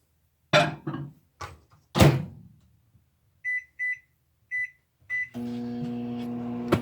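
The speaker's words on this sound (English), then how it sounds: "Let me go ahead and stick this in the microwave." A microwave oven is loaded for warming: a few door thuds and knocks, then a run of short, evenly spaced keypad beeps, and finally a steady electric hum starting up, close and fairly loud, with no talking.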